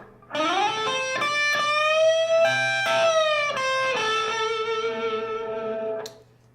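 A distorted electric guitar plays a sustained lead lick, a few bent and held notes ringing out over about six seconds, then cutting off.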